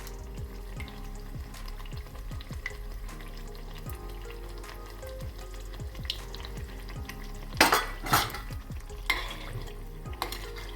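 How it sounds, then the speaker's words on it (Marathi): Small sweet potato puris deep-frying in a pan give a steady low bubbling sizzle, with stirring and a few louder sloshing bursts near the end. "अशा लाटते मी छोट्या छोट्या पुऱ्या. आणि तळते."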